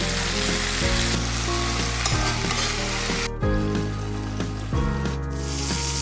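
Oil fries loudly and steadily in a pan, a dense continuous sizzle alone and up close with a repeating mechanical pattern underneath.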